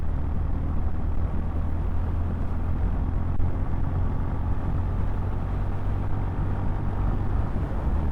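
A 2025 Honda GB350S motorcycle pulls uphill in second gear under gentle throttle, a steady low engine rumble mixed with wind noise and no clear revving peaks, with no talking.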